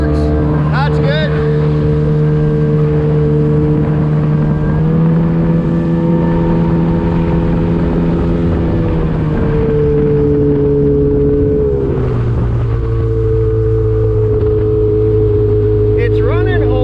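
A rare old mini jetboat engine runs roughly while the boat moves across the water. It makes a loud, steady droning hum that shifts in pitch a couple of times as the throttle changes.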